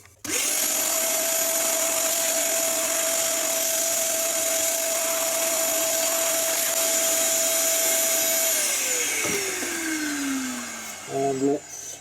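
A wood router trims steadily with a high, sustained whine, near and loud, then spins down. A few knocks follow at the end.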